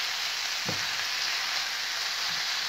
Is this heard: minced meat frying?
yes